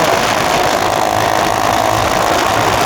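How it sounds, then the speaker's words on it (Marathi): A motorbike engine runs loud and close as the accelerator is pressed, a continuous dense roar and rumble that holds steady across the whole stretch with no talk. "गाडीला ॲक्सिलेटर दिल्यावर असा आवाज येतो."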